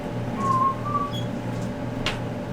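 A human voice imitates the whistling swish of a swung sword: a thin, breathy whistle-like tone drawn out twice in quick succession, fairly soft over a steady low room hum.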